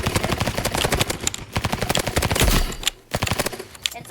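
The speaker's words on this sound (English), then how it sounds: "Next up is the Uzi" Uzi submachine gun in the Roblox game Rivals fires long, loud, rapid full-auto bursts, its dense rattling broken by one brief pause before it resumes.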